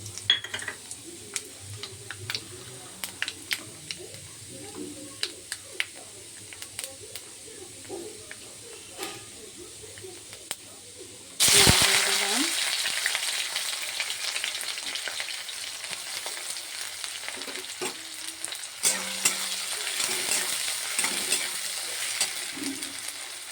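Onions hit hot mustard oil with black cumin seeds in a pan, a sudden loud sizzle starting midway after quiet crackling, then a steady close frying hiss with occasional stirring scrapes.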